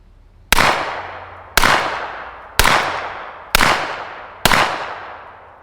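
Five suppressed gunshots from a Wolfpack Armory Whisper Pickle firing Remington 147-grain rounds, each a sharp loud crack with a fading tail, spaced about one second apart, with no talk.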